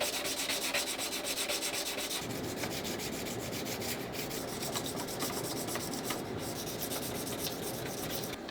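Guitar frets are rubbed with micro mesh abrasive pads graded from 1500 to 12,000, a close continuous scratchy sanding hiss, quiet and steady, changing texture slightly as the stroke shifts.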